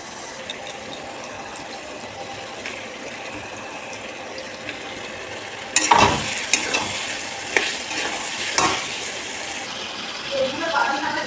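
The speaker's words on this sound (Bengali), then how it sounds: "মশলাটা কষা হয়ে গেছে দেখো। এবার আমি চিকেনগুলো দিয়ে দেবো।" Chicken dropped into cooked-down spiced masala, starting with a low simmer and a few clinks, then bursting into a loud sizzle with stirring and scraping that fades to a steady frying hiss.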